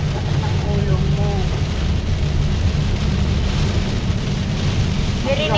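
Typhoon rain and wind pour down in a dense, steady roar of broadband noise that stays loud and even from start to finish, with faint voices briefly audible underneath.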